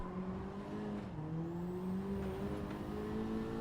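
A Honda VTEC engine drones steadily in Gran Turismo 7, a continuous tonal hum that rises slowly in pitch with a brief dip partway through, heard alone without talk.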